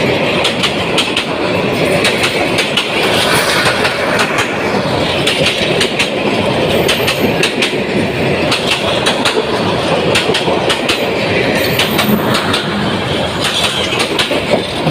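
The Jamalpur Express thunders past close by, a loud, steady roar of wheels and carriages with rhythmic clickety-clack beats and faint squeals running throughout.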